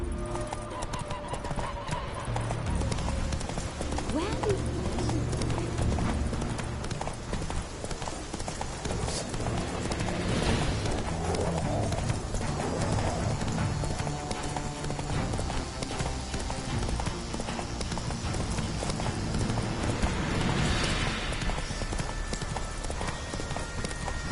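Horse hooves galloping in The Witcher 3: Wild Hunt, a fast continuous clip-clop rhythm under game music and ambience, with an occasional whinny.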